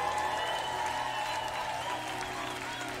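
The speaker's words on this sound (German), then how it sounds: "können wir Jesus mal einen riesen Applaus geben?" A crowd at a live worship event applauds for Jesus, steady clapping heard at moderate level over a sustained musical tone from the band.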